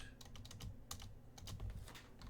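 Quick clicks of a computer keyboard being typed on, with several presses of the backspace key to clear a chart axis title in Excel, sounding close and steady with no talking.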